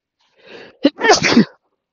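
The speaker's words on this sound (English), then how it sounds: "I'm about to sneeze" A single loud sneeze up close: a short breathy intake, a sharp burst, then a noisy trailing exhale, with silence around it.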